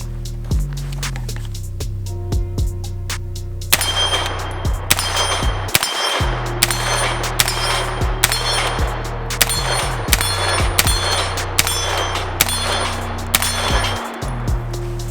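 Battlearms Xiphos 9P pistol fired from about 20 yards at a steel tree target: a rapid string of sharp gunshots, each paired with a bright metallic clang of struck steel, steady rhythm over a constant low hum, no talking.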